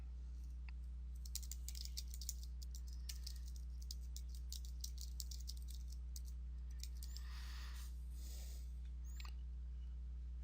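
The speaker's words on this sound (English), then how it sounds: "and then I just start typing" Quick, irregular clicks of fingers typing on a computer keyboard, light and close, over a steady low electrical hum.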